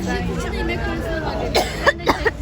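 Several short coughs from a person in a noisy indoor space at a sports club event, with background chatter and voices throughout.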